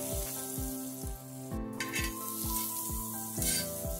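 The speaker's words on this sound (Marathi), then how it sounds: "मी थोडंसं बटर घालून शेकून घेते" Pav bread toasting in butter on a hot pan for street-style Mumbai vada pav, a steady close sizzle with repeated soft scraping strokes, no talking.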